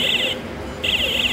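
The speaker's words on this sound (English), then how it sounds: "This is alarm is showing that without a connection with the air compressor, that will be alarm." An air pressure alarm on a rotary packing machine with its compressor disconnected sounds two loud, high electronic beeps separated by a short gap, over a low machine hum.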